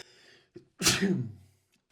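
A single sharp sneeze, preceded by a quick inhale and trailing off into breath, close and loud in an otherwise quiet room during PC cleaning.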